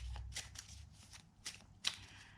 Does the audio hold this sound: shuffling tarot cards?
yes